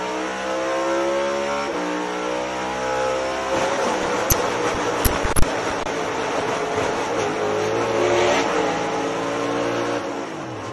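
NASCAR race car held at wide-open throttle while riding the wall, a loud sustained engine roar with rising pitch and a few sharp scraping bangs midway, no talk.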